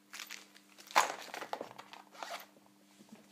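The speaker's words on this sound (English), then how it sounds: "this is the plastic bag I put all the screws in" Plastic bag that holds screws for a Profoto speed light ring is handled beside a Pelican 1510 camera case, giving close, uneven crinkling and rustling in several bursts, loudest near the start, with no talk.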